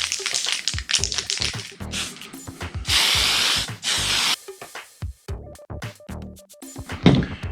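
Spray paint can coating a Tamiya Avante 2011 model car body: close hissing bursts of spray, one long sustained blast, between clicks, taps and handling rattles of the can.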